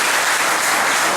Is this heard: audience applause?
yes